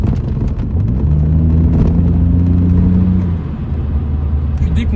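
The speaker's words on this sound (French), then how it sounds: "du son du moteur, c'est vraiment envoûtant" A BMW Z3 roadster's 2.2-litre six-cylinder engine revs up steadily, its pitch climbing and holding before easing off, close and loud, with someone talking over the engine throughout.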